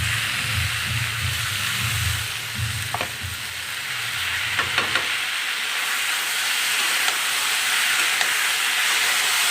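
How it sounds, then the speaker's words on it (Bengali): Masala for a spicy soyabean curry sizzles and fries in a pan with a loud, continuous hissing crackle and a few faint utensil taps; a low rumble fades out partway through. "মশলাটা দিয়ে ভালো করে ভেজে নেব।"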